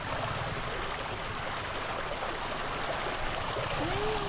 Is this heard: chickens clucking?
no